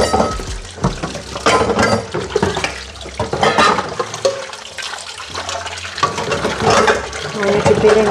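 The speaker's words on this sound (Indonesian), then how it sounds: "Mau nyuci piring dulu pemirsa." Dishes being washed by hand under running water in a home kitchen, a steady water stream mixed with clinks of plates and cutlery close by, with brief speech at the start.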